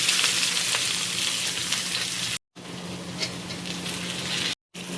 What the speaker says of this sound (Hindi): अब कटा हुआ प्याज डालने के लिए जा रहे हैं